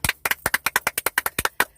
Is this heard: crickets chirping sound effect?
no